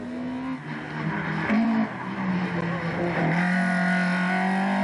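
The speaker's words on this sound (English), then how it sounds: "There's Matt Smith in the little Proton 1400. Very quick car." A little Proton 1400 rally car runs a forest stage at a hairpin, its engine droning and shifting pitch as it revs and changes gear, heard at a steady distance with a brief rise in loudness.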